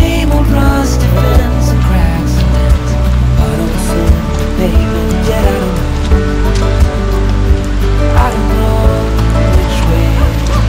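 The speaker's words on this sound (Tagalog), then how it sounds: "Nabot kami ng ulan." Steady wash of rain pouring down, with dense broadband noise and scattered drops, loud and close throughout, with occasional voices mixed in.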